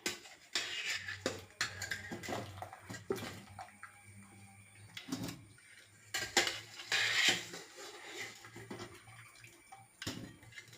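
Boiled tapioca is scooped from a pot into a dish: intermittent clinks and scrapes of a utensil against metal, with soft wet handling sounds in between, fairly close and quiet.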